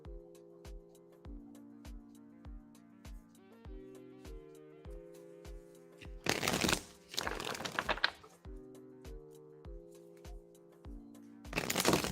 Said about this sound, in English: Let's get to shuffling for you.